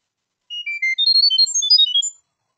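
Chirp audio data transmission from an Arduino Nano 33 BLE Sense, a rapid string of short, clean high-pitched beeping tones at shifting pitches lasting under two seconds, crisp and alone against silence.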